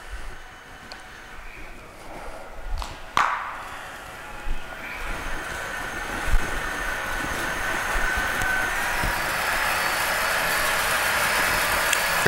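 A brand-new Atrump KL30200 heavy duty CNC lathe, 30 by 196 inch, runs a job cutting a chess pawn, a low steady machine drone with a few sharp clanks early on, gradually growing louder, no talk.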